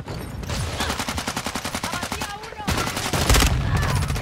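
9mm gunfire in the Call of Duty: Modern Warfare II video game: a rapid automatic burst of closely spaced shots, then a brief pause and more loud firing, with faint game noise between.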